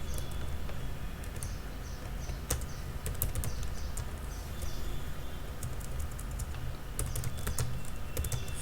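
Code is typed on a computer keyboard: a steady run of close, crisp key clicks with occasional louder strikes over a low room hum.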